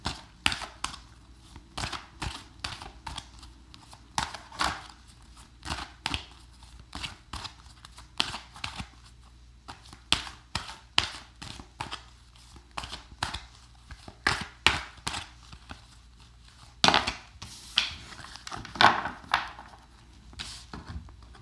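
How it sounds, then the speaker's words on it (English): Rapid, irregular soft slaps and riffling clicks of tarot cards being shuffled, repeated in bursts close to the microphone. "if you do enjoy the shuffling like I do, just stick around"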